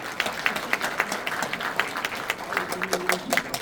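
Audience at a Korean lawmaker's legislative report meeting in Cheongju claps for an introduced committee chair, moderate applause with distinct hand claps and voices talking underneath.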